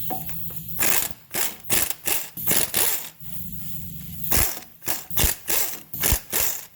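Rapid ratchet clicking in repeated bursts as 15mm bolts are loosened on the suspension of a 2011 Chevrolet Avalanche LTZ, each burst of pawl clicks separated by brief pauses, close and loud.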